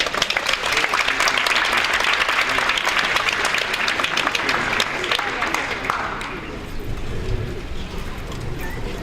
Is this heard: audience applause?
yes